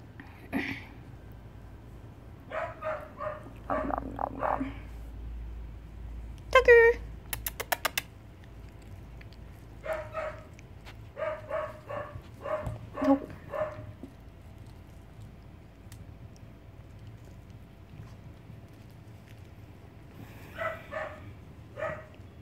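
Scattered short barks and yips from small dogs, some in quick bursts, with pauses and faint background noise between them.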